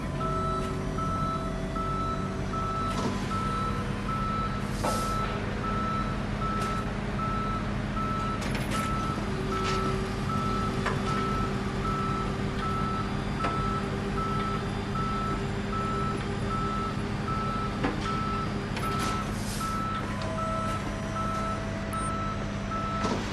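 A tow truck reverses in the video game Police Simulator, sending out a long run of loud, evenly spaced reversing beeps over a steady engine rumble, with brief air-brake-like hisses and no talking.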